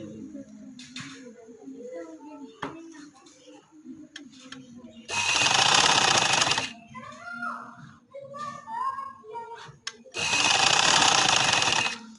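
A sewing machine stitches a full fabric sleeve, two loud sustained bursts of rapid running stitches separated by quieter handling sounds, with someone talking throughout.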